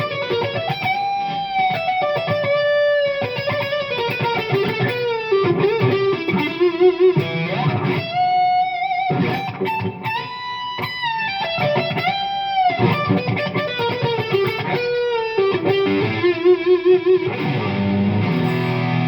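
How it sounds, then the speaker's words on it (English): An electric guitar plays a lead line through a Quilter Tone Block 202 head and Line 6 Pod Go patch with gain, delay and reverb, sustained distorted notes and bends ringing with echoing repeats, loud and continuous with no talking. "this particular patch is a lead patch, and it's got some gain on it. It's got some delay,"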